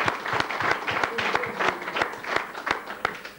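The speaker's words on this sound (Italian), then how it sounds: "un applauso a voi." A studio audience breaks into steady applause during a 1990 Umbrian regional sports television broadcast, many hands clapping at close range with dense, even rhythm and no voices over it.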